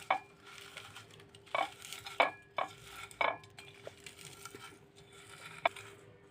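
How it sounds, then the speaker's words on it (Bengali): Dried chili, onion and salt mixed together by hand for a spicy Bengali bhorta, giving soft squishing and crushing sounds with a few sharper handling clicks, close and quiet, without talk. "শুকনা মরিচ নিলাম, কিছু পেঁয়াজ, এবার দেব লবণ, সুন্দরভাবে মাখাই নেব হাত দিয়ে।"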